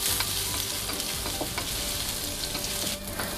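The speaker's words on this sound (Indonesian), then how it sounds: "Sisakan sedikit minyak, tumis bawang putih." Garlic and ginger sauté in a little leftover oil before broccoli goes in, a dense, continuous crackling sizzle filling the pan with occasional stirring clinks, close and fairly loud.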